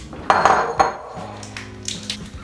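A spoon or utensil clinks and scrapes against a dish while prepared Rice A Roni is stirred, several close ringing contacts followed by a quieter rhythmic scraping.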